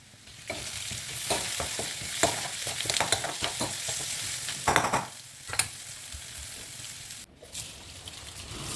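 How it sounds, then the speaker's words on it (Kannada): Vegetables and tomatoes frying in oil in a home kitchen, with a steady sizzle broken by repeated clatters and scrapes of stirring, close and fairly loud, without talk. "ಇದನ್ನೆಲ್ಲ ಚೆನ್ನಾಗಿ ಎಣ್ಣೆಯಾಗಿ ಹುರ್ಕೋಬೇಕು."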